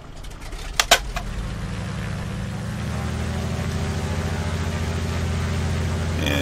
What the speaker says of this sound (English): It would be nice if I would start the engine.